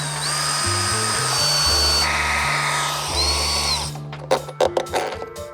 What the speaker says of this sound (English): there's 4 bolts on the inside of the fairing that hold the inner and the outer together. We're gonna go ahead and remove those.